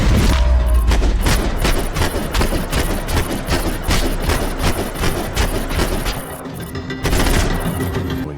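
Gunfire in the Max Payne video game, a near-continuous string of loud, close shots and bursts over a rumbling background, with dense overlapping reports and no talking.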